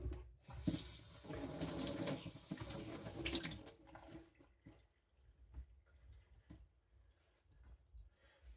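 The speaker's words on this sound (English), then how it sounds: "I always, before cooking, rinse off my knives and give them a quick wash in very hot water" Hot tap water runs steadily into a sink as kitchen knives are rinsed before cooking, a close, continuous rushing stream that cuts off partway, leaving scattered faint drips and clinks.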